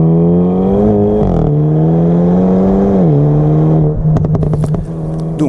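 Hyundai i30N with a dual-clutch gearbox pulls hard under load, its engine note climbing steadily, then a quick gearshift drops the pitch and rises again; crackling pops from the exhaust burst out near the end.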